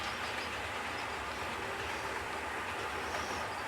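Model train hauling a long string of about fifteen cars with a helper engine at a train show, a steady rolling rumble and hiss of wheels on track running continuously, close and even, without voices.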